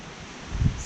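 A brief gust of wind buffets the microphone outdoors on a sunny day at a backyard trench-digging site, a low rumbling burst rising over faint steady rustle near the end.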